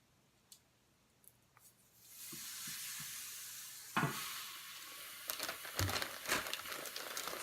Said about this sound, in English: you will hear it, and that is how you know the grill pan is hot enough, because you will hear the sizzle